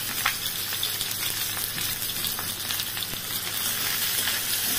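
Onions frying in oil with whole garam masala tempering for a country chicken and potato curry, a continuous close hissing sizzle with faint crackles.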